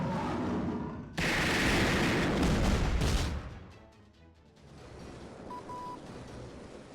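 Heavy gunfire and explosive booms from a mobile game battle roar loudly for a couple of seconds, then fade to a rumbling background with a faint electronic tone, with no talk.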